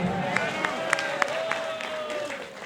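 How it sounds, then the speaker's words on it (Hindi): At an AAP election rally in Janakpuri, Delhi, a crowd claps in a steady rhythmic beat, with an amplified voice speaking over the clapping. "इसके लिए ताली बजा दो एक बार।"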